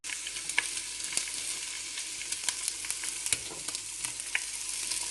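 Beef cheeks frying in a pan, a steady close sizzle with small crackles and pops running throughout, no voices.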